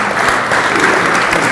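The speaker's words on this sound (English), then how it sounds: "So everyone that's here tonight, please give yourself a round of applause." Loud, dense applause from a gathered audience at an evening community meeting in the Lansdale YMCA, a brief unbroken burst of many people clapping together.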